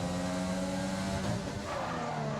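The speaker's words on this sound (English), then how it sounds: "You can hear Mattis GamerBoss locks up quite heavily" A race car in a Singapore Grand Prix racing game locks up its brakes under a loud, constant engine whine, with the tires skidding and the pitch sliding briefly, and no talking.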